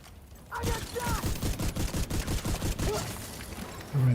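Rapid video-game turret gunfire rattles out in a long, steady burst of evenly spaced shots, loud and close, with a short heavier thump at the end and no talk.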